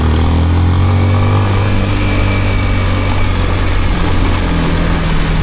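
A motorcycle engine labours on a rough trail, loud and close, with a steady droning pitch that shifts slightly as the rider works the throttle, running alone without talk.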